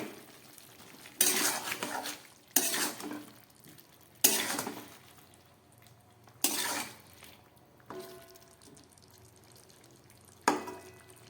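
A pot lid lifted off a simmering papaya, potato and chickpea curry on low gas, followed by a series of spaced metal clanks and scrapes of a spoon stirring, close and fairly quiet.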